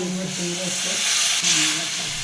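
A loud, steady sizzle and hiss fill the clip as water hits a hot curry in the pan, with a faint voice murmuring underneath.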